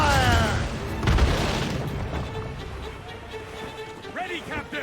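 Ship cannons fire in an Assassin's Creed Rogue naval battle, with deep booms rolling out near the start and around the one-second mark, then a long rumbling tail, mixed with shouted crew voices and game music.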